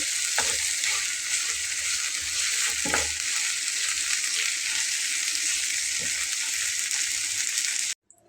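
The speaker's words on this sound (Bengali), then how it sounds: "কিছু ভাজা করে তারপরে নামাবো" Radish greens crackle and hiss in a frying pan with a constant sizzle, punctuated by three brief stirring knocks spread apart, before the sound cuts off abruptly at the end.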